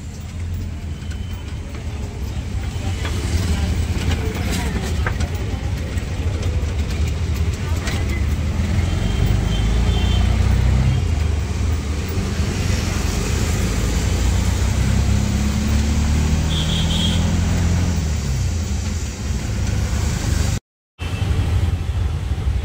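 An auto rickshaw, freshly serviced, runs on a test drive with a steady, loud engine drone and road rumble throughout, a brief cut near the end, and faint voices in the background.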